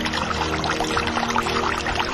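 Flowing river water used as a sound effect in a radio drama, a steady dense rush of running water heard continuously and fairly close, with no voices over it.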